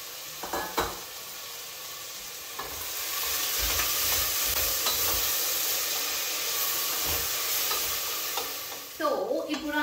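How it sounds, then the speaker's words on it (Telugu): Tomato, mint and green chilli sizzle steadily in hot oil in a pan for chicken pulao, a broad continuous hiss with occasional stirring scrapes, loud and close, with a brief clatter at the end. "పుదీనా తర్వాత టమాటో, పుదీనా, మిర్చి వేసుకొని ఫ్రై చేసుకోవాలి."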